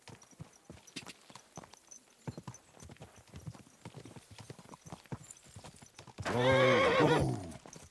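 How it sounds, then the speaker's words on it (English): Hooves clip-clop steadily in a medieval video game, then a horse lets out a loud, close whinny near the end. "What are you doing, horse?"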